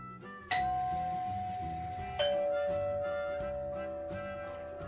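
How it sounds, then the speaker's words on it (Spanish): A front-door doorbell rings twice in a bright ding-dong pattern, each chime ringing out and fading slowly, over faint background music with no talking. "sonó el timbre de su puerta"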